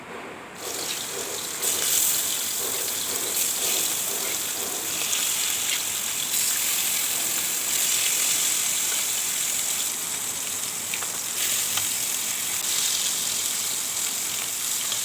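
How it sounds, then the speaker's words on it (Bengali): Fish frying in two to three tablespoons of soybean oil on a stovetop, giving a loud, steady, hissing sizzle that runs unbroken throughout. "চুলায় আমি এখানে দিয়ে দিলাম 2 থেকে 3 টেবিল চামচ সয়াবিন অয়েল দিয়ে মাছগুলোকে আমি দিয়ে দিচ্ছি"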